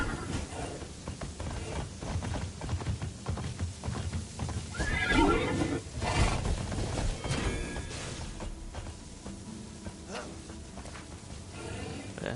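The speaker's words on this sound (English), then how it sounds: "Trying to check if I have my horse right there." A horse whinnies in the video game Immortals Fenyx Rising, a clear neigh in the middle of the clip over clip-clopping hooves and game ambience.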